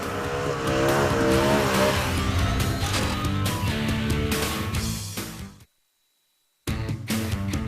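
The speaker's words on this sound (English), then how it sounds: "That was like a watch-winning burnout." A BMW M3 doing a burnout, loud engine revving with screeching tire squeal, cutting briefly to silence before the roar returns.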